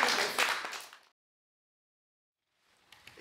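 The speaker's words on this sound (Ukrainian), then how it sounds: "Оплески." A brief burst of clapping and applause from a small group, fading out into silence before a faint stir of sound returns near the end.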